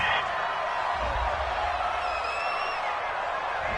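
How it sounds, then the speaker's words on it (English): A home crowd in a video game American football match cheers a penalty call on third down, a broad steady roar that holds loud and even from start to finish. "This home crowd, they're happy with that call."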